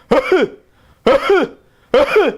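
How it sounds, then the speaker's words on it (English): Three harsh, barking coughs come at even intervals, each loud, close and hoarse, with brief silence between them. "that's the typical barking cough"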